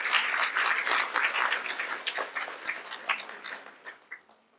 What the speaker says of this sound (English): one more round of applause for all the performances we watched